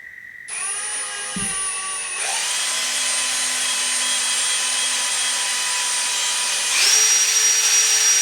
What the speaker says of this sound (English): So I'll go ahead now and get the drill and drill these 2 holes